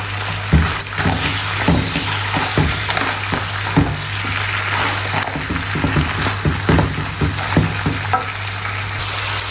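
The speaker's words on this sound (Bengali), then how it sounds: "মোটামুটি ফ্রাই করা হয়ে গেছে" Lobster pieces and prawns fry in a pan with a loud, continuous sizzle broken by frequent crackles and stirring clinks. No one speaks.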